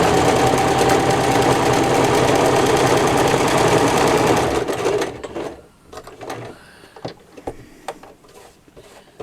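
A sewing machine stitches patchwork in a fast, steady whir for about five seconds, then stops, followed by scattered soft clicks and handling noises of fabric being moved.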